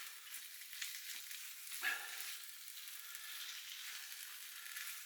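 King prawns hit a hot curry pan and fry with a steady, fairly quiet hiss, a brief louder burst of sizzling as they go in near the start.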